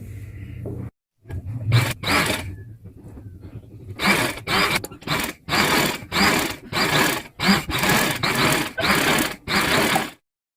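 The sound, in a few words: sewing machine stitching gathered pleats on a sharara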